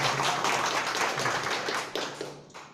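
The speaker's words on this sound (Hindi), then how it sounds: "जोरदार ताली बजाए," An audience at a Nutricharge training session claps loudly and densely, then the applause thins into scattered claps toward the end.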